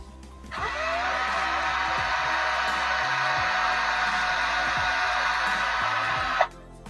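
A power drill with a 3.5 mm bit bores into a cork rod handle, giving a steady whirring drone for about six seconds before spinning down.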